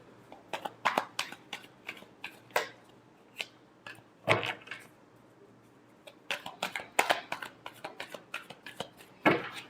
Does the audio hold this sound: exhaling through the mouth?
no